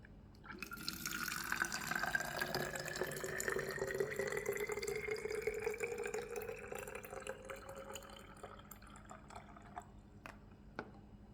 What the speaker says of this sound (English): Now let me pour some water out to see what the temperature is for that water.